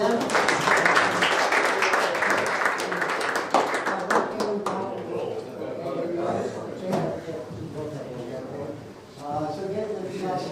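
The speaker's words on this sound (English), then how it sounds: "A round of applause for both of them." Audience clapping at a school career day, a burst of applause for two guests that thins out after a few seconds as voices and chatter take over the room.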